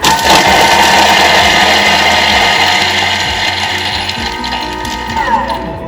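A Thermomix food processor whirs loudly and steadily, chopping chilies and coriander, its blades rattling in rapid pulses that gradually ease a little toward the end.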